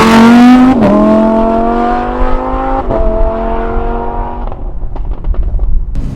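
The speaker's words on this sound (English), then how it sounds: "the V10 just deserves a beautiful exhaust just to let it sing that a little bit more and add to the drama" Lamborghini Huracan V10 fitted with a Supersprint exhaust, a loud, high, singing engine note that climbs through two quick shifts, each with a brief dip and crackle, before the revs drop away into pops and burble.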